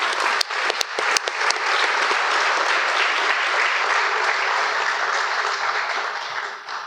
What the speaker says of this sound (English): Please join me in one more round of applause for Mr. Houston's lifetime commitment to the